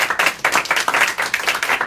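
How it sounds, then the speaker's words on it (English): A group of people claps together in a room, a steady run of fast, close, loud handclaps with no talking. "I just wanted to clap."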